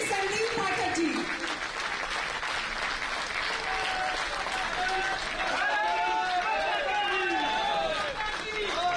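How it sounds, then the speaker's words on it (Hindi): A crowd applauds to welcome a speaker at an AAP Rajasthan office-bearers' oath-taking ceremony, with continuous dense clapping throughout and voices audible over it. "जोरदार तालियों के साथ उनका स्वागत कीजिए"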